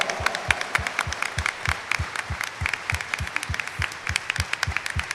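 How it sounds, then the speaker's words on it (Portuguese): A congregation at a Mass for the Assumption applauds: rhythmic, evenly timed clapping in unison, about three claps a second, with scattered clapping from others layered over it, sustained and fairly near. "Ela merece uma salva de palmas, minha gente."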